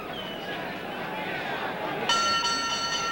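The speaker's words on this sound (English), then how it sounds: "And there's the bell." A boxing ring bell clangs to end round six of a pro bout between Jose Napoles and Billy Backus, one bright ring cutting in near the end over a steady murmur of crowd noise.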